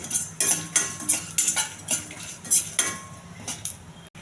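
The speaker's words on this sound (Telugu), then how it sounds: "కొద్దిగా శనగపప్పు, కొంచెం జీలకర్ర, ఇవన్నీ దోరగా వేయించాలి." Chana dal, urad dal and cumin roasting in a pan, with a quick repeated series of metal spatula scrapes and clinks against the pan over a faint sizzle, close and fairly loud.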